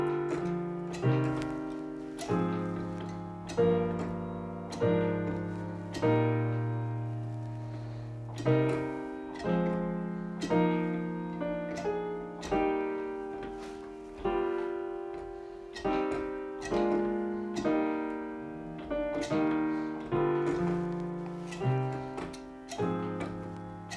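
A slow four-part harmony chord progression, with the voices sounding together as a steady series of sustained chords. Each chord starts with a clear attack, and the music plays alone with no talking.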